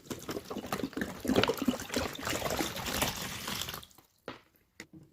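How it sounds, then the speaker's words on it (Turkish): Cartoon water pours into a pool in a continuous splashing gush, close and fairly quiet, then breaks off into a few last drips and trickles. "Ve havuzumuz suyla dolmaya başlıyor."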